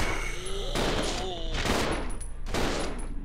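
Billy fires a gun in the video game Resident Evil Zero, with three heavy, booming shots spaced about a second apart over continuous game noise.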